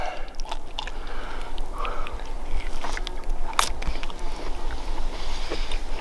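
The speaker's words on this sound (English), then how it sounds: "got to eat the heart" Someone chews raw elk heart outdoors after an elk hunt, with wet, soft mastication sounds close to the microphone under steady wind noise.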